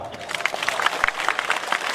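Crowd at a community social gathering claps in a dense, steady patter of many hands, fairly close, with faint voices mixed in throughout.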